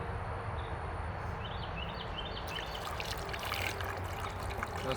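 Liquid pours and gurgles steadily out of an old tiller's gas tank in a continuous splashing stream, close and constant throughout.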